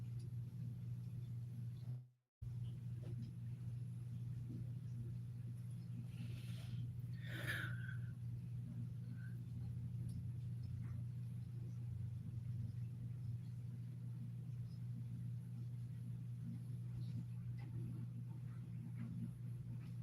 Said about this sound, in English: if you hear the noise in the background, I am washing my sheets